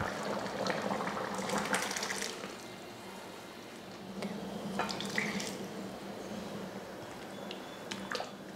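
Dal and water being poured into a pot of simmering sambar, a close running, splashing liquid pour with brief clinks, alone with no voices.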